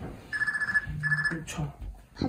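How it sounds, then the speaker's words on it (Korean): A telephone rings indoors in two electronic bursts separated by a short gap, followed by a voice and other talk in the room. "전화가 왔네?"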